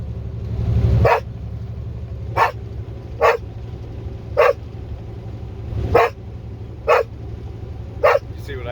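Dog barks in short single bursts, about seven evenly spaced over several seconds, fairly close, above a steady low rumble like an idling truck engine.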